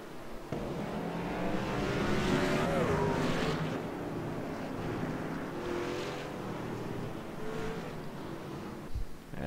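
Race cars in a PC sim racing series pulling off pit road, a continuous loud engine drone with rising revs and overlapping cars, cutting out abruptly near the end.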